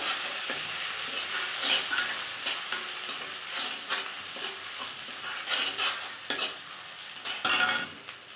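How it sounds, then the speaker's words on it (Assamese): Crushed ginger and garlic frying with browned onions in a pan, a steady close sizzle with repeated scraping stirs of a utensil throughout, no talking. "আদা ৰচুন থেতেলিয়াই থোৱা সেইখিনি অলপ ভাজি লওঁ"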